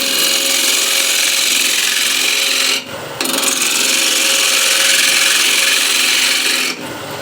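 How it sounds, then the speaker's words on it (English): A carving gouge dragged toward the carver in a draw cut through bone-dry, hard ash wood, a steady close rasping scrape that runs continuously with two short pauses between strokes. "this is what I like to call a draw cut, because you're dragging the gouge towards yourself. and I'm using the wing of the gouge"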